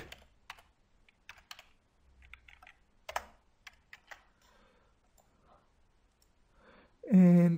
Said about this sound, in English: here I'm gonna type it